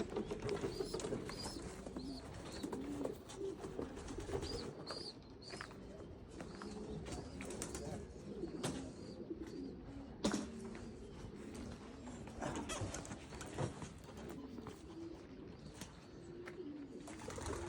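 Domestic pigeons coo repeatedly inside a loft, overlapping soft rolling calls near and far, with wing flutters and scuffling and occasional voices in the background.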